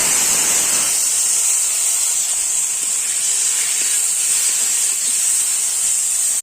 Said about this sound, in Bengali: দিয়ে এটাকে ধিমি আঁচে ঢাকা দিয়ে ভেজে নেবো।